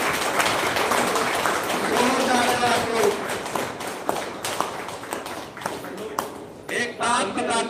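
Crowd applause at a Hindi ashram seva samiti event: steady clapping from many people runs throughout, with voices talking and calling out over it.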